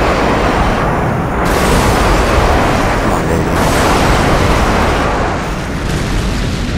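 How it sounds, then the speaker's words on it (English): Airstrike explosions in a multiplayer shooter on the Sub Base map roar as a continuous, loud, rumbling barrage of booms that merge into one dense wall of blast noise, with no talk. "Friendly airstrike on the way."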